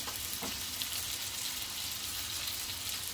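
Hara bhara kebabs shallow frying in oil produce an even, constant sizzle with no voices, holding close and steady throughout.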